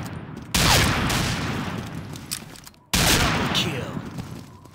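Two long bursts of G36E Valkyrie rifle fire in the Combat Arms shooter on the Ghost Town map, loud and close, the first cut off abruptly before the second begins, with a voice talking underneath.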